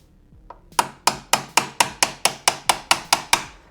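A hammer tapping a punch while installing crash bars on a Honda Grom MSX125, about a dozen sharp metallic strikes in an even, quickening rhythm, close and clear with no talking.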